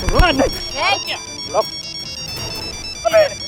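A phone ringtone plays in short melodic phrases, close and fairly loud, with a voice speaking briefly alongside it.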